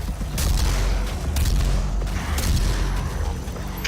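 Rocket explosions in the Doom video game, a rapid run of loud booming blasts with crackling bursts, dense and close with no talk over them.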